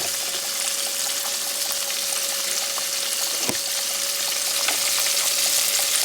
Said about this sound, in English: Okay, so the pork chops are frying.